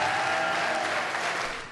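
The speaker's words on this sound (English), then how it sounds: "Judging by the cheers and applause throughout the day" Award presentation honouring work with people with a learning disability, with an audience applauding steadily and loudly throughout, a dense wash of clapping with no voices.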